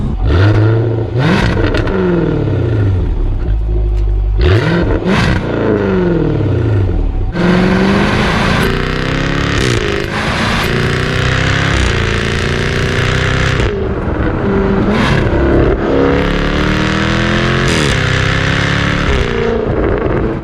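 A 2021 Jaguar F-Type R V8 engine revs hard and roars through repeated rises and gear shifts, deep aggressive rumble with pitch sweeping up and dropping, loud and close.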